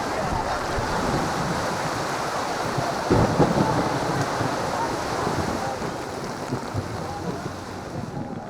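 A heavy rainstorm pours down in a steady, dense roar, with a brief low thump of thunder partway through and constant rushing noise throughout.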